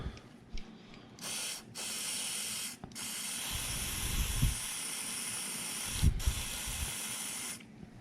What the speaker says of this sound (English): So don't think I'm just spraying some random stuff in there